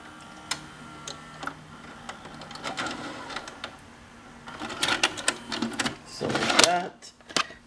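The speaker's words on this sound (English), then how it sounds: "I'll press stop. I'll eject the tape." A JVC HR-A56U HiFi VHS VCR is stopped and ejects a tape, producing a series of close mechanical clicks, clunks and whirring transport noises that build toward a louder burst near the end, with a voice speaking intermittently.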